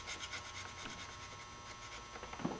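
Old gasket material being scraped off the intake surface of a 1998 S10 Vortec 4.3 V6 engine, a quiet continuous rubbing scrape with a small knock near the end.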